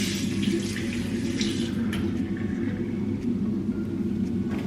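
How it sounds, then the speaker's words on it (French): Water is poured over hair coated with a detangling mask, a steady rushing splash like a running tap that holds through the whole stretch at moderate loudness, with no speech. "Hop, je mets un peu d'eau."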